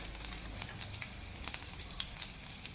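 Cumin and garlic sizzle in hot oil for a dhaba-style dal tadka, a faint, even crackling fizz with scattered small pops and no talking.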